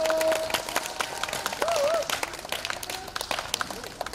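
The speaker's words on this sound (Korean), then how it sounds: "지금 박수 치신 분들은 아마 한 10년은 더 사실 것 같아요." An audience at an autumn festival stage show with nanta drums claps in a scattered way. The claps are brief and uneven and mix with voices and a short whistle-like tone.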